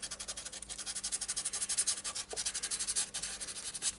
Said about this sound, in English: I'm just going over it with a little bit of 400 grit sandpaper now, just to soften it up a bit.